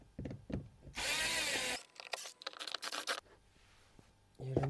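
Power drill driving out Phillips screws during a sound system installation in an MG4 car, with a sustained whirring burst followed by short stuttering spins and clicks, close and fairly quiet, with a voice speaking around it.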